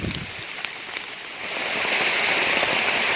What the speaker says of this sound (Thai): ฝนตกดีแฮง